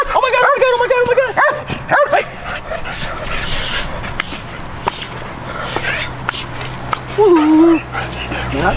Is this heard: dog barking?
yes